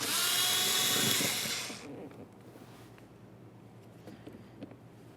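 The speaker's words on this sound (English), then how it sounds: "Now we'll use our 8mm and remove the mounting bolt behind this area." A power driver with an 8mm socket removes a mounting bolt inside the rear door of a 2006-2012 Ford Fusion during window motor and regulator replacement: a loud, steady whir for about two seconds, then it cuts off, leaving faint clicks.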